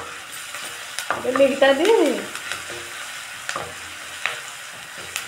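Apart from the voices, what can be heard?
chopped tomato pieces frying and being stirred in a pan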